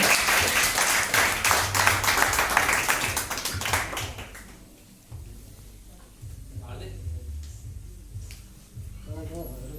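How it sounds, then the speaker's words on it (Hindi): An audience at a Hindi poetry recital event bursts into loud, dense clapping that rings out for several seconds, then thins away into scattered claps under a speaker's voice. "एक बार जोरदार ताली हो जाए"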